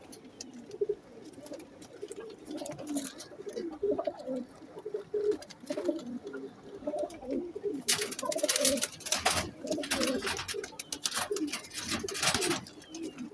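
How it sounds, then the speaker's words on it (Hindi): Sialkoti pigeons, a flock of eleven, coo continuously in low, rolling, overlapping calls, close and fairly quiet, with bursts of wing flapping and rustling joining in partway through. "आज मैं आपके लिए बहुत अच्छे कबूतर लेके आया हूँ सियालकोटी"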